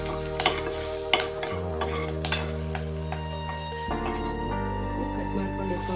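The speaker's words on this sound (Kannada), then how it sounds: "ಈಗ ನಾನು ಇದೇ ಆಯಿಲ್ಗೆ 2 ಹಸಿಮೆಣಸು ಹಾಕೋತಾ ಇದ್ದೀನಿ." Green chilies sizzling in hot oil for egg biryani, a steady close fry hiss with a few stirring clinks and scrapes over a low background hum.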